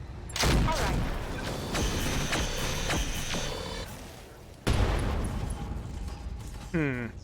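Mech weapons firing on a Locust mech in the RogueTech BattleTech game: heavy booming impacts and blasts spaced apart, with mechanical whirs and tonal weapon effects between them, loud and close, a voice speaking over parts.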